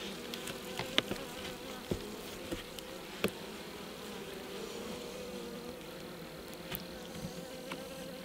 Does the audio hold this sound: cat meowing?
no